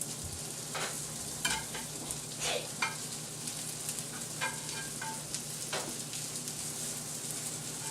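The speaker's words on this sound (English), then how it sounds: "We're just going to, start to grill them up here, warm them up." Vegan patties sizzle and crackle steadily on a grill, a close, continuous frying hiss dotted with small pops, with no talking.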